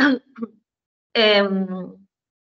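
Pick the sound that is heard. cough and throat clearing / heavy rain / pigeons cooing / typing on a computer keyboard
cough and throat clearing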